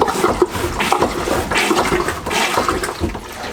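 Marine toilet on a Dufour 460 Grand Large sailing yacht pumping water through, a loud close gurgling, sloshing rush with uneven surges that continue throughout.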